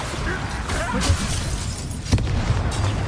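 Spell explosions and combat effects in the Hogwarts Legacy video game, with a sharp blast near the two-second mark over a dense, noisy background of battle sounds and a voice.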